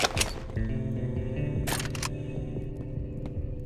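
Short ammo pickup effect in the video game Red Alliance, resembling the Half-Life sound: two quick bright clicky bursts over a quiet hum, no speech.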